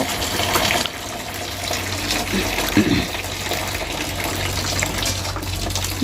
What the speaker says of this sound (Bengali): বাঁধাকপিটাও ধোয়া হয়নি এখনও তো ধুইতে নিয়ে যাব